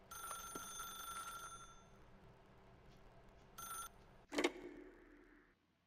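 A telephone in The Stanley Parable video game rings in two electronic bursts, a longer ring and then a shorter one, followed by a sharp click, all fairly quiet with no talking.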